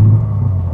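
A BMW M3 Competition idles with a deep, steady bassy exhaust rumble, loud and close, a continuous low drone with no other sounds over it.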